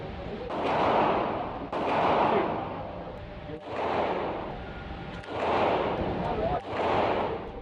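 Gunshots at an outdoor gun range, five loud sharp reports spaced about every one to two seconds, each with a long booming echo trailing off.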